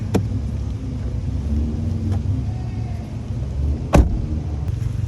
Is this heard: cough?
no